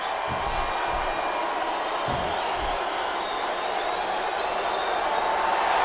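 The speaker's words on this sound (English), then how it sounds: "This capacity crowd is making their opinions known tonight." A capacity arena crowd cheers at a WWE wrestling show in the SmackDown vs Raw 2007 video game, a steady loud roar of many voices that continues without a break.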